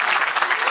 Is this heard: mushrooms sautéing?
no